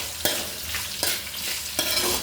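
Onion cut into large pieces fries in a pan for a mint and tomato chutney, a bright sizzle punctuated by three loud stirring scrapes about a second apart, close and without speech.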